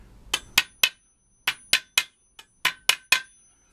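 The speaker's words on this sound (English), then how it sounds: "And then I'll grab my little hammer" A little hammer taps pieces onto model train track, sounding as about ten sharp, bright metallic taps in small irregular clusters, close and clear against silence.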